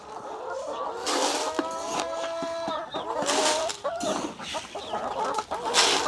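Backyard chickens on a farm in Cebu cluck and squawk close by in overlapping calls, with a steady outdoor background and no talk.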